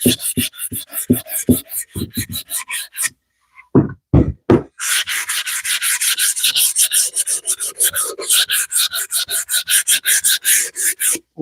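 Sandpaper scrubs back and forth across a wooden cutting board in rhythmic rasping strokes. The strokes come fast, stop for a short pause with a few isolated scrapes, then resume as a steady, close, brisk scrubbing.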